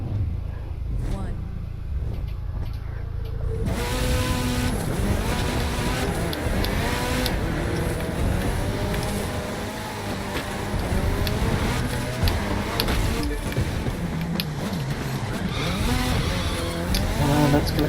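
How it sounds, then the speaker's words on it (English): A car in The Crew 2 racing game revs and drives hard, with engine roar and tire noise throughout and someone talking over it. "Skid."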